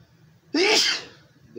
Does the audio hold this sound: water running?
no